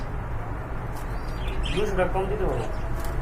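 Pigeons, fancy high flyers, racers and Rajgolla birds, coo softly at a pigeon market, a brief low burble rising over steady crowd murmur and background noise.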